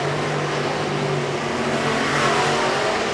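Factory stock race cars roar around Tulsa Speedway in a feature race, loud sustained engine drone with rising revs as cars pass.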